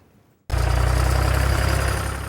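A farm tractor engine at Shadow Brook Farm starts up loud after a brief hush, then holds a steady, rumbling run with a faint rhythmic pulse.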